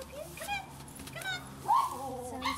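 A dog in a transport trailer whimpers and gives short yips and barks, high whines rising and falling in several separate bursts, close by, with a person's voice talking faintly underneath.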